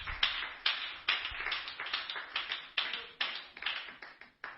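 A church congregation bursts into applause, uneven clapping bursts and hand taps rising and falling in waves, fairly close and loud with no talking over it.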